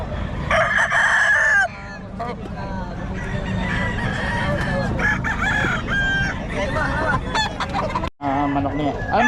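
Roosters crow repeatedly and chickens cluck in a busy gamefowl gathering, the calls near and loud over a constant hubbub of people talking in the background.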